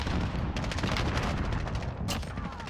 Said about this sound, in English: someone else shot me